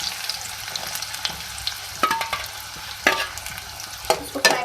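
Two medium onions frying in oil for beef keema, a steady close sizzle with scattered clinks and stirring scrapes that swell into sharper crackling bursts toward the end.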